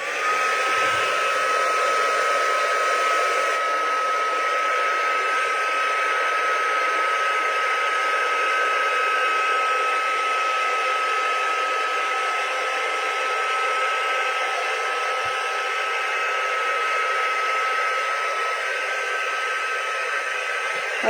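Craft heat tool blowing hot air onto a craft pad, a loud, steady, continuous whooshing roar held close for the whole stretch with no talk.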